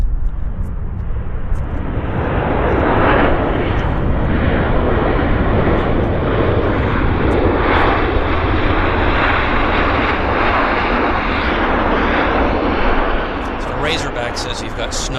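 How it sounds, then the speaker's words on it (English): A United Airlines airliner lands at Vancouver Airport, its loud broadband engine roar and rushing noise holding steady for the whole stretch, with brief crackles near the end. "We've got another lander here."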